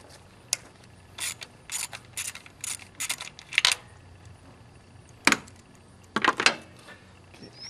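A hand ratchet works on an ignition coil bolt of a 2008 Toyota Corolla, giving short bursts of close, crisp clicking strokes separated by pauses.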